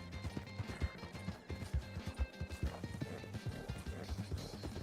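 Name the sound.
horse hooves clip-clopping in the video game Red Dead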